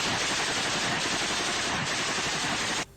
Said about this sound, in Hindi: एक लड़ाका मशीन गन से एक तरफ ताबड़तोड़ गोलियां चलाता दिखाई दिया।